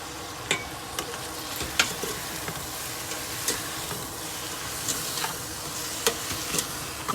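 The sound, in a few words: beef frying with squash and spices in a pan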